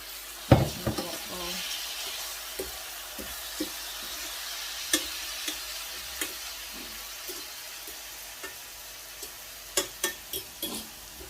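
Onions sizzle and fry in a pan on a stove with a steady hiss, punctuated by sharp clinks and scrapes of a utensil stirring against the pan, loudest in a burst near the start and a cluster near the end.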